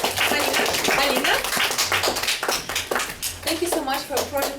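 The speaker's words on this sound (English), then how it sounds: "let's give a round of applause to Alina" Audience applause for Alina at a Toastbusters speaking-club meeting, steady clapping from a group throughout, with a voice talking over it.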